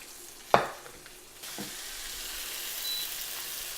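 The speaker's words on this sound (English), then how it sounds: "And then I'll put the next batch in" Chicken thighs frying in a pan: a sharp clatter as pieces go in, then a bright sizzle swells and holds steady, loud and close with no talking.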